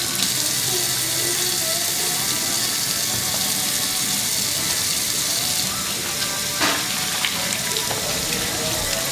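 Tap water runs into a kitchen sink as chicken is rinsed while cooking enchiladas, a loud steady hissing stream with occasional clinks and splashes throughout and no speech.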